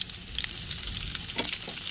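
Oil sizzles and crackles steadily in a pan as onions and garlic fry, with short bursts of louder spitting throughout.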